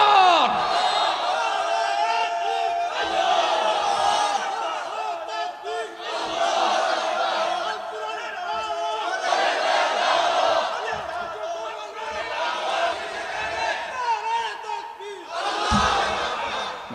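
A large gathering at an Islamic sermon responds with the Nara-e-Takbir slogan, shouted in repeated loud collective bursts that rise and fall in rhythmic call-and-response waves.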